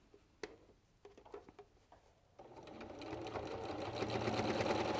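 A sewing machine stitches fabric for quilting, starting after a few soft taps and handling sounds and then running in a steady, fast, close whirr that builds slightly in loudness.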